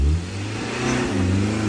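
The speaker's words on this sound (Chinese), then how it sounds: "最后还是只有大亮一个人可以启动这车" A car engine revs hard and strains in a continuous mid-pitched drone as the vehicle tries to pull away on a rough, difficult mountain road between Tibet and Xinjiang, with power fading.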